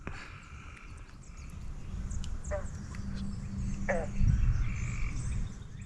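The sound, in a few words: frogs croaking in lily pads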